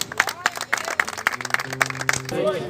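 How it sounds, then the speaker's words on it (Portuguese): A church congregation claps in a steady, even rhythm, with voices heard over the claps throughout. "Aplauda Jesus."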